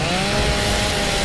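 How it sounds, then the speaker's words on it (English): A video game chainsaw revs loudly and continuously, a dense buzzing roar that stays close and steady throughout. "Chainsaw!"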